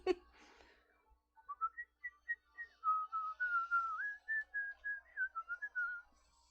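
A single person whistles a slow, wandering tune close to a microphone, a string of clear, sustained notes and short phrases that rise and fall in a quiet room.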